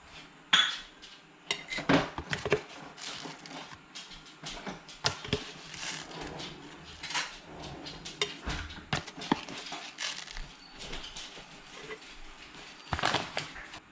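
Coffee grounds are scooped into a French press pot, with light scraping and sharp clinks of a metal scoop against the glass, irregular and faint, set against quiet room sound.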